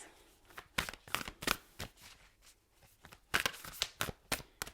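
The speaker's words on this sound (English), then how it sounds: "One more shuffle, please." A tarot deck is shuffled by hand in quick bursts of crisp riffling card slaps, close and fairly quiet, with brief pauses between runs.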